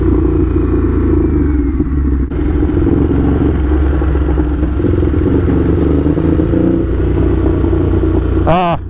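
Ducati Hypermotard SP motorcycle engine revving hard up close, a loud, rough clattering roar that surges and holds, ending in a quick rising rev sweep; a voice is briefly heard over it.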